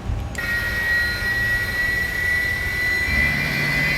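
Airbus A300-600 engine in a flight simulator as fuel is introduced during start at 20 percent: a steady turbine whine with a sharp tonal onset shortly after the start, holding a constant high pitch over a low rumble.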